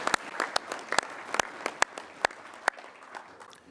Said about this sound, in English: you should give yourselves a round of applause for that